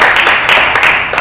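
Brief, steady applause from an audience at a university talk on air quality, a dense wash of many hands clapping together at close range.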